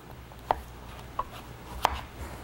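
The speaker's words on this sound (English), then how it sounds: "these things are pretty tough to cut through. So just be careful with your hands while you're using a super sharp knife like I am." A super sharp knife cuts tough butternut squash into one-inch cubes, three distinct sharp chops landing on a board at uneven intervals, close and fairly quiet, with no talk.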